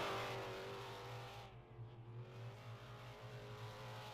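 A stock car runs laps at Berlin Raceway during an All American Stockcar Championship feature, its engine a steady loud drone that dips briefly before resuming.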